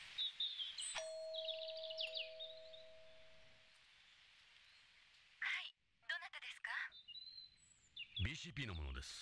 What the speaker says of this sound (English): There's a doorbell next to it.